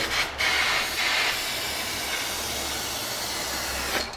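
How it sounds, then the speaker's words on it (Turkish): Close, steady hiss of spray aimed from about 30 cm above a car mirror cover for hydro dipping, with a few brief breaks and bursts. "Deseni 30 santim yukarıdan sıkıyorum."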